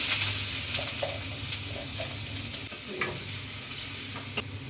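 Chopped onion fries in coconut oil in a hot pan, a steady close sizzle with a few light stirring scrapes and clicks, no voices.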